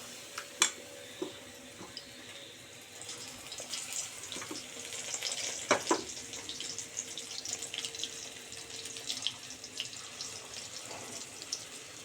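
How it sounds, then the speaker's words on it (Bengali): Chicken pieces marinated in green chilli sauce frying in hot oil for chilli chicken, a broad steady hiss with scattered sharp pops and crackles, close and moderately loud, with no talking. "এবার তেলটা গরম হয়ে গেছে আমি মাংসগুলোকে আমি আস্তে আস্তে ভাজতে থাকবো"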